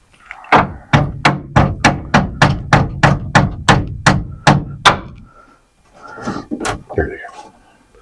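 A furniture frame piece is hammered down into place, about fourteen sharp, evenly paced wooden knocks close up, followed by a brief voice and a couple of softer thumps.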